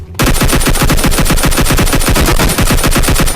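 Sustained automatic gunfire from the PUBG Lite battle royale game, a rapid unbroken stream of loud, evenly spaced shots running the whole time with no pauses and no talk.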